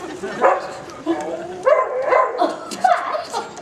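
Willoughby, a stage dog in a Mary Poppins theatre production, barks and yips in short bursts mixed with voices on stage, moderately loud with a roomy echo.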